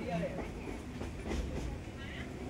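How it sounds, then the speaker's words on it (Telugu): Interior rumble of the Sampark Kranti Nizamuddin superfast express while running, a steady close low roar with faint rhythmic rail clatter throughout, no talk over it. "ఇప్పుడు మనం సంపర్కాంతి నిజాముద్దీన్ ట్రైన్లో ఉన్నాం, సూపర్ ఫాస్ట్ ఎక్స్ప్రెస్"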